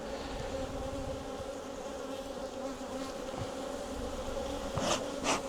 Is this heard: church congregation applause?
no